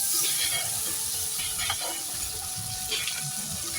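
Ground cumin, coriander, green chili and ginger paste sizzle loudly in hot oil in a pan, a steady close frying hiss with a few brief stirring scrapes, no voices.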